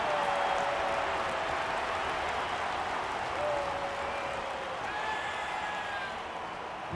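Stadium crowd roar from the AFL 26 football video game, Cats versus Lions, a steady dense wash of cheering and applause that holds loud and even throughout, with faint whistling tones drifting over it.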